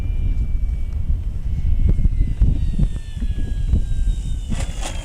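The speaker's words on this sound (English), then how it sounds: "Let me do a grass landing with it right here." An FMS Ranger RC airplane comes in for a grass landing, its electric motor whining thinly in a slowly falling pitch over heavy wind buffeting and rumble outdoors, with soft thumps near the end.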